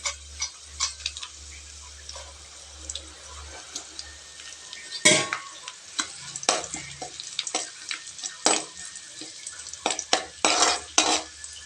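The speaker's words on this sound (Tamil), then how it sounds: "பூண்டு செவந்ததும் இப்போ மிளகாய் சேர்த்துக்கலாங்க." Dried red chilies and garlic fry in oil, giving a soft sizzle punctuated by repeated sharp scraping stirs of a utensil against the pan, close and moderately loud with no talk.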